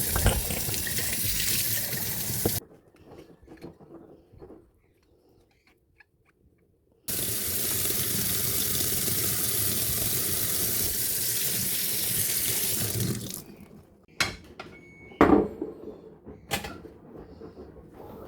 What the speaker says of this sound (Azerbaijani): Şəkər qabını da yudum.